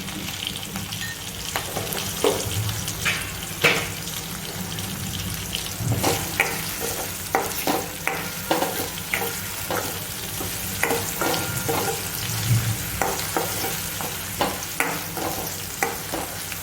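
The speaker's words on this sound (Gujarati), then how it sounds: "આ રીતે આપણે ચડી જાય ત્યાં સુધી આપણે તાતળી લઈશું આપણે તેલમાં ચડવા દેવાના છે" Corn chilli in a Kathiyawadi style being stirred in hot oil in a pan, with a steady close sizzle of frying and repeated scraping and clacking strokes from the spoon throughout, with no talking.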